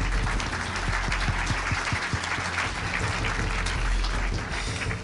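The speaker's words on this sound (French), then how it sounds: "Oui, vous pouvez l'applaudir." A large audience at a real estate awards ceremony applauds an award winner steadily throughout, a dense wash of claps heard from a slight distance.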